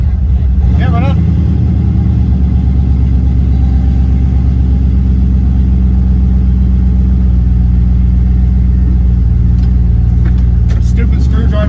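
A Dodge Caravan fitted with a turbocharged LS engine drones along at steady cruise, a deep continuous engine rumble under road noise filling the whole stretch, close and loud inside the cabin.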